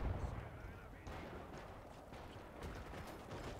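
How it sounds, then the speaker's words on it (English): Mortar explosions and gunfire rumble in the video game Gates of Hell during the 1940 Meuse River crossing at Dinant, a faint, dull barrage with a few heavier thumps. A voice talks over it. "They got a good mortar hit on that."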